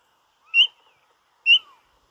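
Seagulls call in the background, two separate clear whistled cries about a second apart, each a short descending note heard alone against silence.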